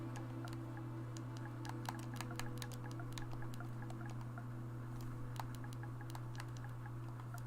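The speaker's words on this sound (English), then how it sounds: "Typing the wrong thing." Typing on a computer keyboard during a Hogwarts Legacy game session, quick irregular soft key clicks over a steady low electrical hum, fairly faint and close.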